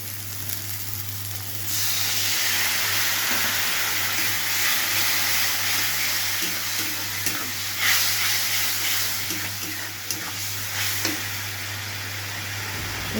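Meat frying in oil with spices for a homemade meat curry gives a continuous bright sizzle that swells as it starts and stays steady, with occasional louder crackles and stirring scrapes and a low background hum.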